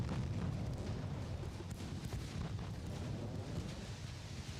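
Naval gunfire from warships in Ultimate Admiral: Dreadnoughts, during a Royal Navy campaign battle, rolls as a continuous heavy booming rumble with overlapping blasts, loud and steady throughout.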